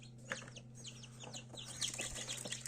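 Newly hatched chicks in an incubator tray, among broken eggshells around day 20 to 21, give out rapid, high-pitched cheeping. Many overlapping peeps repeat steadily over a low electrical hum, fairly quiet and close.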